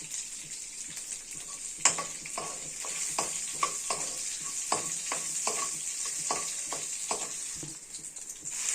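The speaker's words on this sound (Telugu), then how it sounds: "ఇదిగోండి పోపు సామానం వేగిపోయాయి" Mustard seeds and other tempering spices sizzle in hot oil for a mango, ginger and tomato chutney, with a steady high hiss broken by a series of sharp pops and spoon stirs, close and alone.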